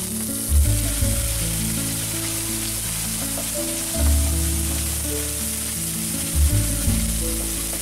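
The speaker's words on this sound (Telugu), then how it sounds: "వేగిన తర్వాత అల్లం పచ్చిమిర్చి పేస్ట్ వేసి 5 నిమిషాలు వేయించండి." Ginger and green chilli paste fries in a pan with a steady, loud, close sizzle and crackle, broken by a few soft stirring thumps, with no talking.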